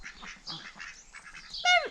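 Ducks and drakes on a small farm quack loudly in a short burst at the end, after a stretch of softer bird chatter and low background noise.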